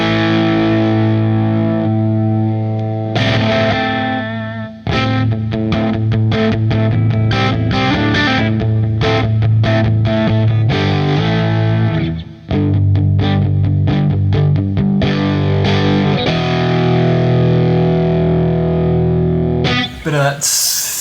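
A distorted electric guitar with Stratocaster single-coil pickups and a thin, bright, harsh tone plays chords and choppy riffs, loud and close, with a brief break midway.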